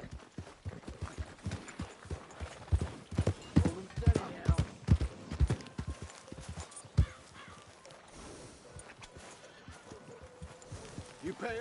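Horse hooves clip-clopping in the Western video game Red Dead Redemption 2, a steady rhythmic trot of close, fairly loud hoofbeats that eases off toward the end, with a brief whinny and game dialogue mixed in.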